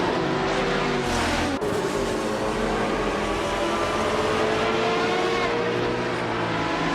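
Racing cars roar continuously in a video game, including a 1998 TBER Speed 12 GTS, with engine drones overlapping loudly and steadily throughout and no talk.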